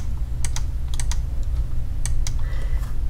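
Letter keys tapped on a computer keyboard, a handful of sharp, close clicks in small irregular clusters over a low steady background hum, with no talking.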